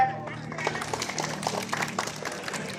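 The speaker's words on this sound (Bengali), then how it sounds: "হাততালি হবে" A group at a fire drill at a Rajshahi agricultural development bank breaks into a short burst of scattered hand clapping, mixed with voices talking nearby.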